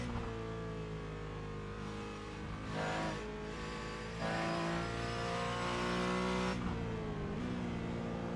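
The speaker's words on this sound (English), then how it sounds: "Mark's racing the Irish Aston Martin." Aston Martin race car engine in the iRacing sim during a night stint of the Nürburgring 24-hour race, a sustained engine drone with rising and falling pitch as the car accelerates and shifts, steady and loud with no talk.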